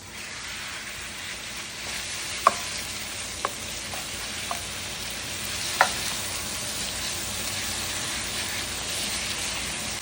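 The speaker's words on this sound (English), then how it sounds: "I'm now going to start to cook off my meat" Beef sizzling in avocado oil in a smoking-hot wok, a steady broadband frying hiss throughout with a few sharp pops and spatters standing out, close and without talk.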